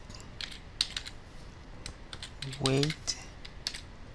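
Code being typed on a computer keyboard, quick light clicks in short bursts with a few heavier keystrokes and a brief vocal hum partway through, close and quiet.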